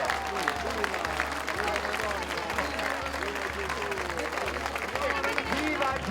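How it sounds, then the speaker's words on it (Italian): A crowd at an Easter procession in San Biagio Platani applauds steadily and loudly for several seconds, with voices shouting and talking through the clapping and a low rhythmic thump underneath. "viva, viva, un bello applauso, forte!"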